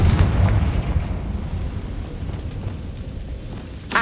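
A Confringo fire spell explodes in the Hogwarts Legacy video game, a loud booming blast that rolls off into a rumbling tail before a second sharp burst at the end.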